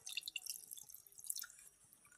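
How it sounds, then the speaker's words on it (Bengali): Water is poured into a cooking pot in a home kitchen, heard as a faint, quiet trickle of light splashes and drips with no talking. "তো আমি এখন একটু জল দিয়ে দেবো"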